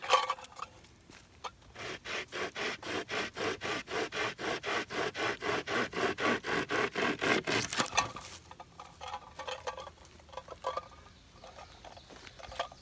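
A small pocket chainsaw rasps through wood in a steady back-and-forth rhythm of about two strokes per second, close up, then stops and quieter handling noises follow.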